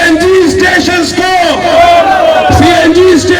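A protest crowd outside a press club in Peshawar, rallying against petrol price rises and a solar system tax, roars back a chanted slogan in reply to a leader's call, loud and close, voices rising and falling in repeated shouted waves.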